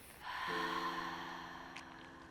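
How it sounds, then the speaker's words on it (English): A deep breath drawn in through the nose and let out through the mouth at the close of a flow and meditation session, one slow, close and fairly soft inhale-exhale with no talking. "Take a deep breath in through the nose and exhale through the mouth."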